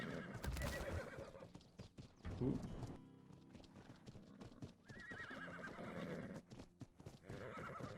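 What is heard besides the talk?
horses neighing and hooves clip-clopping in video game ARK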